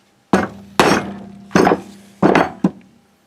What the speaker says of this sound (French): on va quand même s'aider avec avec une protection au niveau du marteau, de la massette